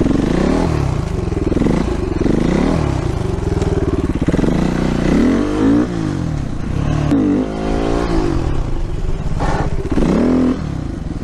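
A four-stroke motorcycle engine revs repeatedly for a wheelie, rising and falling in pitch through a series of throttle blips, loud and close, with some clatter and no talk.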